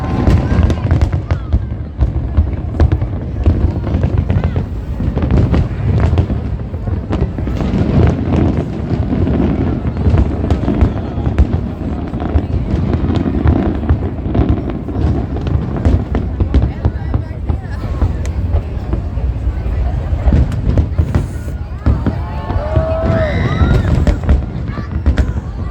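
Fourth of July fireworks in 2024 burst continuously in a dense barrage of booms and crackles, loud and unbroken, with wind rumbling on the microphone and a few faint whistling rockets near the end.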